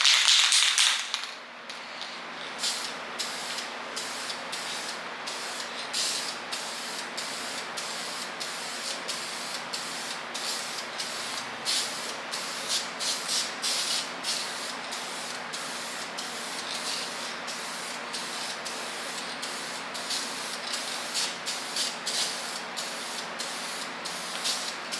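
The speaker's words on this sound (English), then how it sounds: "Yeah, this stuff sprays like water." Very thin spray paint hisses steadily from a can onto a car's bash bar, with rapid repeated bursts of spraying over a constant hiss, close and alone.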